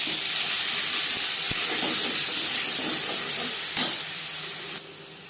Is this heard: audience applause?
no